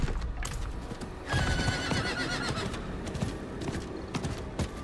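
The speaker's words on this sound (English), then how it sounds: "Nervously running around on horse here." A horse in the Diablo 4 video game whinnies and gallops, hooves clip-clopping in a quick steady rhythm beneath a clear neigh, with no talking over it.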